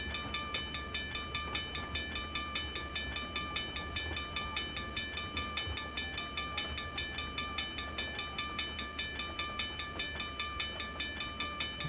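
A passenger train runs along the rails with a continuous loud rumble and a regular rhythmic clatter of wheels over joints, steady and near throughout, with high tonal whine above it and no talking.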